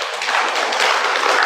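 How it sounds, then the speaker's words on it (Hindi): A hall audience at a Brahma Kumaris spiritual lecture on yoga in Gondia, Maharashtra, claps together in dense, continuous applause that stays loud and even throughout. "ताली तो बजाओ।"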